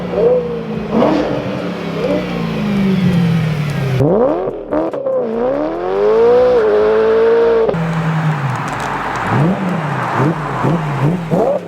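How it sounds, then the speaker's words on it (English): A BMW E9X M3 with the S65 V8 revs hard, pitch sweeping up and down through several loud, close throttle blips and sustained climbs with a brief drop in between. "I mean, even stock, these cars sound so good."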